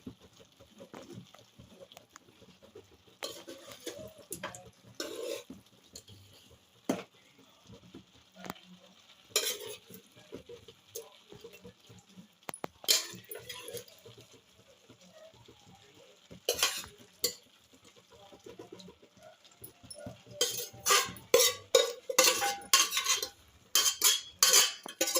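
Chicken goes into a pot for biryani with a quiet sizzle and scattered scraping and clinking of a utensil against the metal, building to a rapid run of louder clatters near the end.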